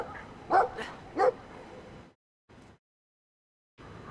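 A dog in the video game Brothers: A Tale of Two Sons barks twice in quick yips, fairly close and clear, followed by a brief quieter sound and near silence.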